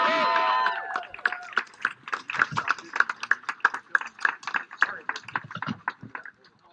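A crowd claps in a quick, uneven burst of applause that gradually thins and fades, after a brief voice at the start, outdoors on the steps of the US Capitol.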